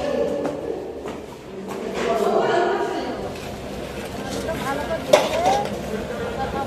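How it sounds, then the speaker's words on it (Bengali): Pots, pans and utensils clatter and scrape in a busy wedding kitchen, with steady background chatter and a voice talking over the cooking noise. "এখানে চলছে রান্না বান্না।"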